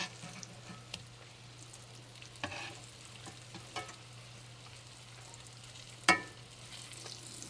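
Green tomato slices frying in a pan, a quiet steady sizzle with a low hum underneath and a few soft clicks and one sharp clatter near the end.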